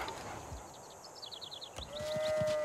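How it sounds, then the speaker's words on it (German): Sheep in Civilization VI bleat in a quick series of short wavering calls over soft ambient game sound, followed by a rising musical chime. "hier unten gibt es Schafe"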